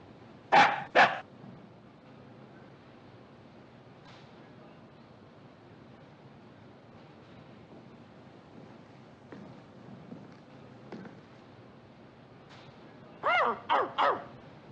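A man aboard a navy ship imitates a barking dog: a pair of sharp barks, a quiet stretch with soft sounds, then a quick burst of three or four barks, all close and loud.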